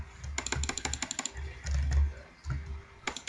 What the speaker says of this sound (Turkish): Yani mouse sesi arkadaşlar evet, çok geliyor olabilir